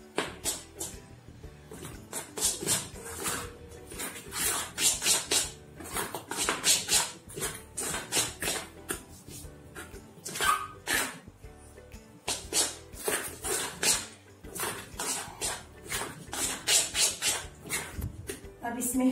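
Heated ghee stirred briskly in a bowl for a veg cake, giving rapid rhythmic scraping strokes close by that continue almost without pause, with occasional brief gaps and some voice in the background.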